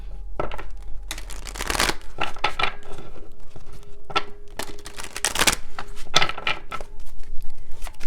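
A deck of cards is shuffled close by in quick, papery bursts, with several riffles and slides stopping and starting over several seconds and no talking.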